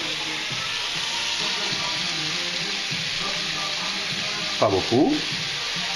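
Slices of onion and garlic fry in a pan with a steady soft sizzle throughout, a short scraping stir near the end and a brief spoken remark.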